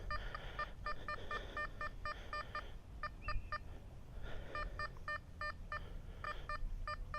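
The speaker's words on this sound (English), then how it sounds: "It's just 2 dots, but I'm getting the beeps." A Nokta FindX Pro metal detector gives repeated short beeps in quick bursts over a target, clear electronic tones over faint background noise.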